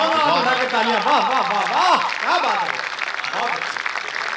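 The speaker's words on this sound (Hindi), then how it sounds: "एक बार दोनों हाथ उठा के तालियां" Applause from the audience at a kavi sammelan, a Hindi poetry gathering, rises beneath a host's animated voice, then carries on as a steady, dense patter of clapping.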